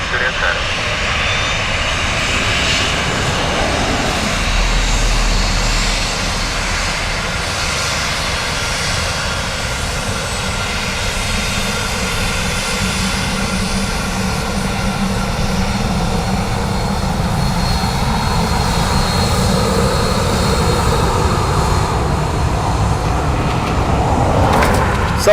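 An airliner landing on runway 28 left at Dublin Airport, heard as a steady, loud engine roar sustained throughout, with air traffic radio talk over it.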